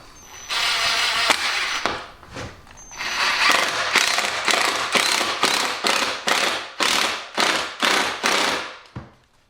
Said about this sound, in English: you can tell it's an impact by that percussive noise you hear when it's driving the screw in